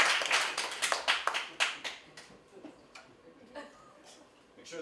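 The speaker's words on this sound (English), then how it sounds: "Round of applause for my volunteer." Applause from an audience for a magician's volunteer, a burst of clapping that is loud at first and thins out over a few seconds, with scattered claps and voices continuing underneath.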